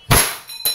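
A single sharp, loud clack from a WE 1911 Type D Classic airsoft gas blowback pistol, fired close by, with a quieter metallic slide snap following half a second later.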